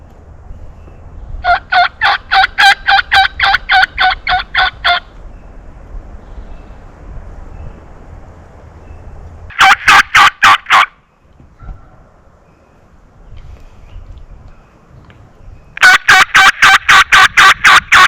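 Wild turkeys gobble in big mountain country during a spring hunt, with three loud bursts of rapid, pulsing gobbles near the start, middle and end, separated by quiet, breezy outdoor stretches.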